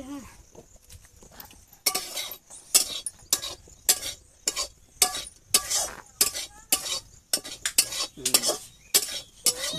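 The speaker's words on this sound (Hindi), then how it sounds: "अच्छा हम सब्जी भून दे रहे हैं।" Potato vegetable stir-fried in a pan gives repeated metallic scraping and clanking of a spatula against the pan in steady rhythmic strokes, close and loud, over a faint sizzle.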